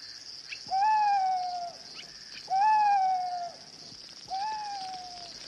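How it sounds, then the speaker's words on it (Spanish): Three drawn-out owl calls at night in rural India, evenly spaced about two seconds apart, each sliding slightly downward, over a constant high chorus of crickets; no voices. "El reclamo del búho es un buen augurio."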